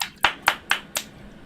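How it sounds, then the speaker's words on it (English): Four separate claps from an audience at a young storytellers' event, evenly spaced about a quarter second apart, sharp and close, then quiet. "So a big clap for Louis."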